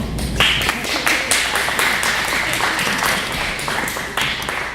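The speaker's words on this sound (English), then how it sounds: "We get a round of applause for the panel." Audience members at an urban happiness panel discussion clap for the panel, a close, fairly loud round of applause with distinct individual claps that stays steady before tapering slightly at the end.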